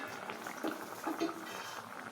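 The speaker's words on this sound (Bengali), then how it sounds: "দেখুন শোলটা ফুটছে" Chhanar dalna, a vegetarian paneer curry, simmering in a pot at home gives off faint, soft bubbling with a few gentle pops over a quiet background.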